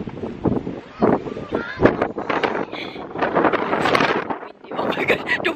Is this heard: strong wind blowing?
yes